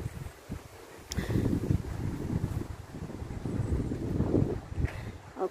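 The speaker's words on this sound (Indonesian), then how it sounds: "Ini angin banget." Strong gusts of wind buffet through a garden planted with broad beans, rising and falling in a rough, rushing roar with some rustling.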